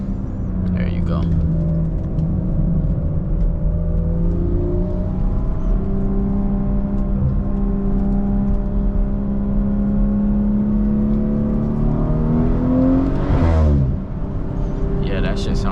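A tuned BMW 340i with a 550 hp B58 engine drones and climbs through revs while driving, with a sharp surge near the end, heard from inside the cabin under occasional talk.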